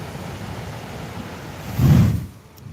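Ocean waves at Kiama blowhole in New South Wales, a continuous wash of surf and wind swelling into one loud surge against the rocks before easing.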